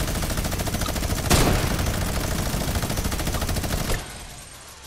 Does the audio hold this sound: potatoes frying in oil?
no